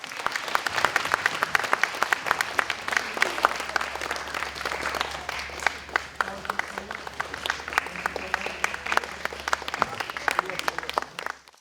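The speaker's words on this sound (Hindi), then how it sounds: "तो प्लीज़ इनके लिए एक दफ़ा और ज़ोरदार तालियां" Loud, sustained audience clapping at the Evergreen Center awards ceremony, a thick crowd of hands applauding continuously, with occasional cheers mixed in and a low hum underneath.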